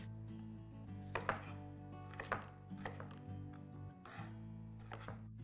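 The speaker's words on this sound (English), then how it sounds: "I'm going to chop these up into quite small florets" A knife chops cauliflower into small florets with a few faint, scattered cuts against the board, set over a steady low background hum.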